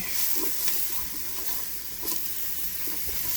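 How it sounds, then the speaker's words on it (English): A steady sizzle of onions frying in a pan, close and continuous, with faint clinks and stirring noises now and then. "Nothing like the smell of onions frying."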